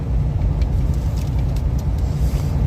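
Cabin of a moving truck on the road, a loud continuous low engine and road rumble with faint rattles, no one speaking.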